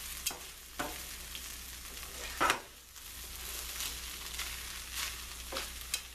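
Corned beef hash with onions and potatoes sizzles steadily in a pan while a utensil scrapes and stirs it, giving several sharp scraping strokes over a constant soft frying hiss.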